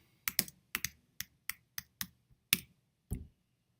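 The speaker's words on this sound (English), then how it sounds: "I'll go over here, type in Android Studio." Someone types on a computer keyboard in a quick burst of about ten crisp key presses in an uneven rhythm. The keys sound close and fairly quiet with no talk.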